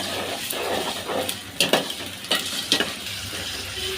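Garlic paste fries in a pan until reddish while prawns with beans are being prepared, giving a steady close sizzle and crackle, with a few sharp clinks and scrapes of a spoon stirring against the pan.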